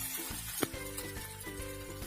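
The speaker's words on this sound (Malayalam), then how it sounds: "കുറച്ച് കറിവേപ്പിലും കൂടെ ചേർത്തിട്ട് ഉഴുന്ന് പരിപ്പൊന്ന് വറുത്തെടുക്കാം" Urad dal and curry leaves fry in hot oil after mustard seeds, a steady close sizzle with a sharp crackling pop partway through, no voices.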